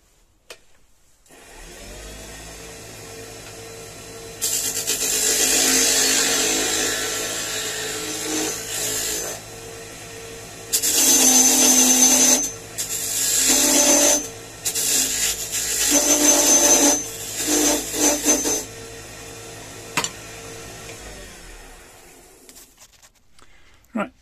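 A firewood blank spins on a wood lathe as a tool cuts a tenon on its end, giving a steady rasping, scraping whir that surges in several loud bursts of cutting between quieter stretches, close and without talk.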